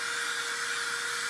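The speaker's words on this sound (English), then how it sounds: "This is a little mini blow dryer. It's actually a hot blow dryer." A small hot mini blow dryer blows steadily at wax in a metal tin, a continuous close whirring hiss with a thin motor whine and no talking.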